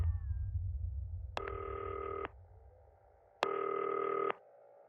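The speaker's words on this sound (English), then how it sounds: "Alright, gotta pick up the phone." Two long electronic phone rings from a desk telephone in the Not For Broadcast broadcast-studio game, each lasting about a second, steady and loud, separated by a pause, with a low background hum at the start.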